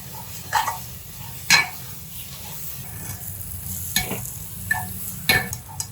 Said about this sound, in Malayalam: പൊടിയുടെ പച്ചമണം മാറുന്നത് വരെ ഇളക്കുക.